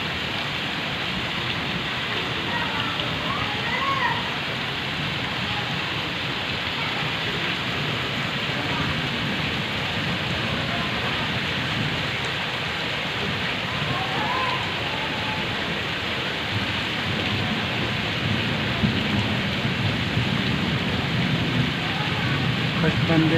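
Heavy rain pours steadily over flooded fields and orchards in a Sindh village near Pagharo, a dense, continuous hiss with occasional drips and patters, loud and unbroken throughout.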